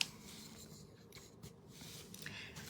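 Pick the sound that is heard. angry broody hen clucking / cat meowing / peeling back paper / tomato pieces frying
peeling back paper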